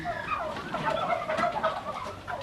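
Turkeys and chickens on a Thai turkey farm cluck and gobble in overlapping calls, a busy chorus of poultry voices close by with no talking.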